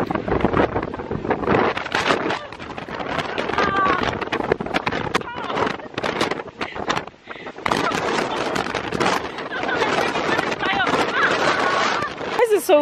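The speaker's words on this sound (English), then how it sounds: "This is so windy." Strong wind buffets the microphone in loud, uneven gusts throughout, with people talking intermittently underneath the roaring rumble.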